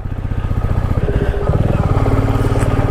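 A motorcycle engine chugs loudly up close with a steady pulsing throb that strains slightly, as if climbing under load on a rough mountain road between Gangtok and Lachen.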